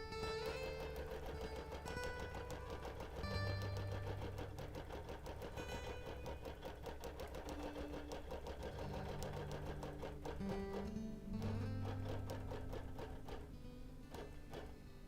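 A sewing machine doing free-motion edge-to-edge quilting hums faintly and steadily throughout, its quiet mechanical whir sitting beneath louder background music.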